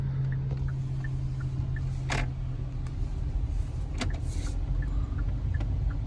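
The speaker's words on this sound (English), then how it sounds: "You're just driving down that road super fast." A car speeds along a road, its steady engine and tyre roar holding at a constant loud level from start to end, with a brief whoosh of a passing vehicle partway through; no one speaks.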